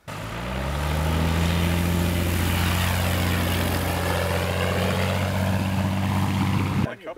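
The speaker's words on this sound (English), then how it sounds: "Bounced was your shortest landing, Russell." A Bearhawk light propeller aircraft runs on a dusty runway during landing, its engine droning loud and steady with a strong low hum for most of the stretch before cutting off abruptly near the end.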